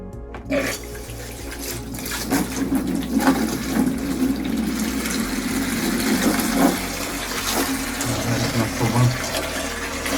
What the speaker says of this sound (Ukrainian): Все, насос умикнувся.